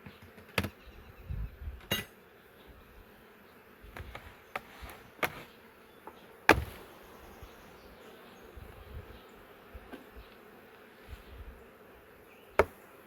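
Honey bees drone steadily at a hive during a brood inspection, a faint continuous buzz broken by sharp knocks and clicks of frames and tools, with no one talking.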